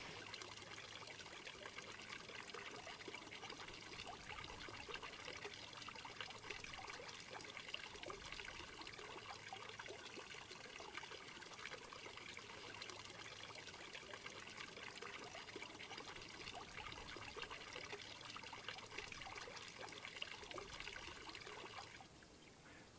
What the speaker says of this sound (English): after I handle this stuff, I always wash my hands with soap and water